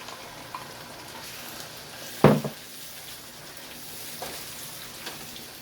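Onions browned in a pan sizzle and fry steadily after ginger garlic paste and chopped tomatoes are added, with one sharp louder burst of sizzle partway through and a low, even hiss around it.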